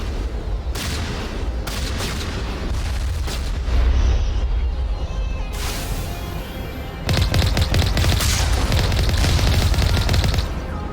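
Rocket launcher fire and explosions in a video game, with loud booming blasts and continuous rattling battle noise, bursts swelling and fading over about ten seconds.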